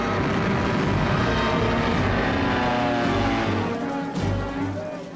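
World War II Stuka dive bombers and medium bombers fly over Poland, their engines a loud, steady roar that swells briefly near the end, with no talk.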